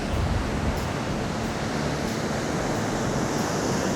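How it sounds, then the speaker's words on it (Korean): Strong ocean surf crashes on a shore where spray wets the ground, a loud, continuous roar of breaking waves mixed with wind buffeting the microphone, with no voices. "오늘 파도 너무 센데?"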